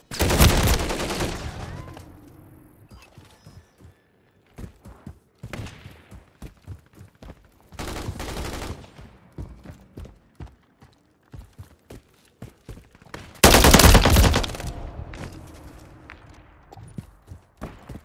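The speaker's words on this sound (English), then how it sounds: "Taking effective fire!" Gunfire in Call of Duty: three heavy rapid-fire bursts, loud and close, separated by scattered single shots and quieter rattling in between.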